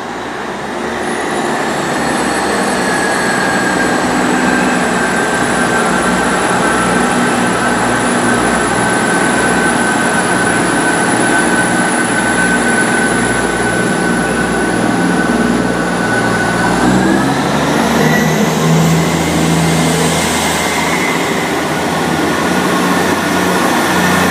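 A South Western Railway Class 159 diesel unit coupled to a Class 158 passes close by at Reading. It makes a loud, sustained engine roar with high whining tones that shift in pitch as the train goes past.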